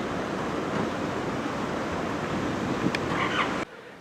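Steady wind roars on the coast at Peel, Isle of Man, a loud, continuous broadband rush that cuts out abruptly near the end, with no talk.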